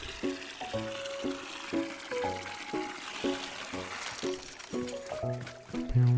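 Water fills a container in the video game Wanderstop, a run of repeated bubbling, rising watery tones with short pauses between them, fairly quiet and heard alone.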